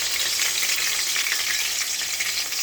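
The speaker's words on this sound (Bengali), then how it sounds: "তেলটা গরম হয়ে গেছে, এবার দিয়ে দিব পেঁয়াজের পেস্ট।" A cup of onion paste hits hot oil in a pan and sizzles loudly and continuously, a close, dense crackling hiss with stirring underneath, for potato bhaji.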